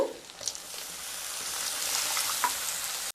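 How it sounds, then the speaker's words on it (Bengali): Spice masala of ginger paste, red chilli powder and a splash of water frying in a pan for a palak and besan sabji, giving a steady close sizzling hiss with a few soft scrapes and no talking. "মশলাগুলোকে খুব ভালোভাবে কষিয়ে নেব"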